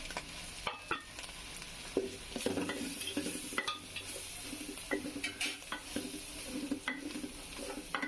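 Turmeric, chili and coriander powders frying in a pot for bhuna khichuri, stirred with a spoon: close, intermittent scraping and clinking strokes over a steady soft sizzle, with no talking.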